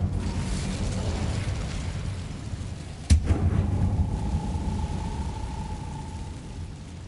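The Incendio fire spell in Hogwarts Legacy bursts with a sudden loud crack and boom over a low rumbling ambience, followed by a lingering roar and a faint steady tone.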